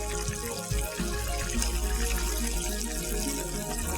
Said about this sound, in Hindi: यहाँ पे देखें बड़ी अच्छी सी कोटिंग के साथ चिकन हमारा यहाँ पे फ्राई हो रहा है।